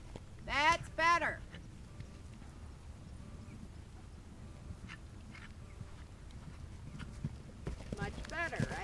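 During cross-country schooling, a horse's hooves give a soft, steady clip-clop in the background under a person speaking, and a couple of whinny-like calls come through near the start.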